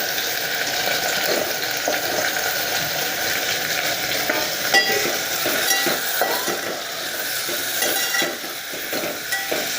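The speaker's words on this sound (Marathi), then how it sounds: "चांगले असे तेलात परतून घ्यायचे" Bitter gourd sautés in hot oil in a pan, a constant close sizzle with light stirring scrapes running through it and no talking.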